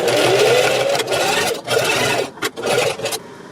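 A sewing machine stitches back and forth across a scrunchie's pinned elastic, whirring steadily in close, fairly loud runs broken by a few brief pauses.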